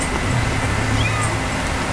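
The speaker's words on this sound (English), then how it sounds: "Oh, look at the little kitty." A small cat in the Skyloft area of Zelda: Skyward Sword gives a soft, brief meow over a steady background game ambience.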